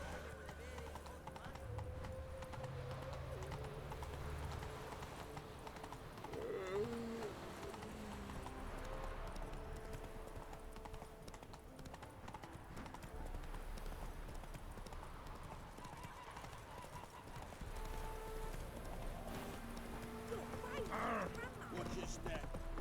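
Horse hooves clip-clop steadily in The Witcher 3: Wild Hunt as the rider's horse walks along, with game music and a brief voice underneath the rhythmic hoofbeats.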